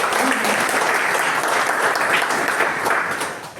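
An audience at a business motivational talk claps in welcome, producing dense, sustained applause from many hands that fills the room and tapers slightly at the close.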